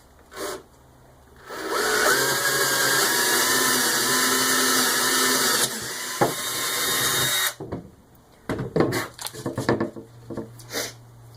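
A power drill bores a hole into a wooden storage crate in one long, steady, loud burst of whine and grinding. It stops abruptly, and a few knocks and handling clatters follow.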